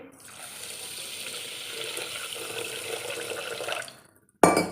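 A steady stream of water pours onto sugar in a pan for several seconds, then stops; a short sharp clink of metal or glass follows at the end.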